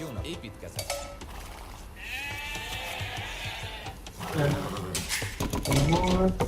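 Sheep bleat in the Age of Empires strategy game, several short game-sound calls heard over a steady in-game background while players talk throughout.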